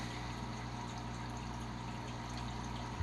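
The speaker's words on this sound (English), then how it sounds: "the isolation pad that sits underneath that pump will quiet it down" An aquarium tank water pump runs with a constant low hum and steady watery wash, droning evenly throughout with no break.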